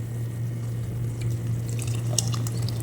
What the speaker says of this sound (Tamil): ரொம்ப கொதிச்சிருச்சு போல். கொதிச்சிருச்சு, ரைஸாக போட்டுலாம்.